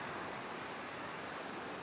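High waves on the Swedish coast send a continuous, dense roar of surf with wind, steady and fairly loud with no talk.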